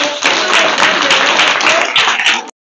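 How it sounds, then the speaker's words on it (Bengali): Audience clapping at a school sports gathering in Jalpaiguri, a dense burst of applause lasting a couple of seconds and then stopping abruptly. "এই জন্য জোরে হাততালি দাও।"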